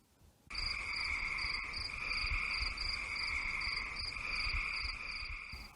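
Forest ambience from a children's audio story: a steady, close chorus of chirping insects with repeating high pulses over a continuous buzz, holding even for several seconds after an abrupt start.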